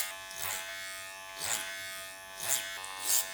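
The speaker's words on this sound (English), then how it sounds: "clipper over comb around here to clean it up" Electric hair clippers buzz in repeated short passes, clipper over comb, while tapering and cleaning up a man's hair, each stroke rising to a bright, close whirr then easing back, about four strokes with no talk.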